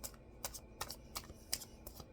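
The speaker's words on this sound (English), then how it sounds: "Let's see if I can get one complete shuffle." A deck of tarot cards is shuffled in quick irregular bursts, crisp papery riffles and slaps close by and fairly quiet, with no talking.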